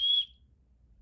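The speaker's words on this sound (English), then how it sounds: "This is the Vargo titanium whistle." One short, shrill blast from a Vargo titanium emergency whistle, sharp and piercing, lasting about a fifth of a second, then cutting off into near silence with a low rumble beneath.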